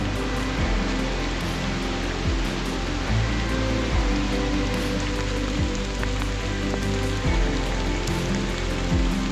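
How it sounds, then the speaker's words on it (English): River rapids in the New River Gorge rush with a steady, dense roar of churning water, loud and unbroken throughout with no voices. "A little rapids action down that way."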